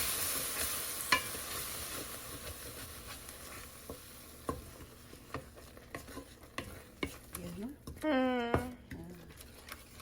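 Cream being stirred into a garlic mushroom gravy in a pan, with soft scraping and a low sizzle running throughout and a brief louder burst near the end, heard alongside background sounds.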